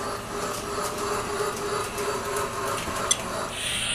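A Lionel Bluetooth toy train running on its track, a steady low mechanical whirring and rattling hum that stays even for several seconds, with one sharp click partway through.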